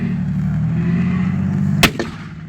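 An American 75mm pack howitzer serving as an anti-tank gun fires a shell at a battle reenactment, a single sharp loud crack with a short echo, breaking over a steady low engine rumble from armoured vehicles.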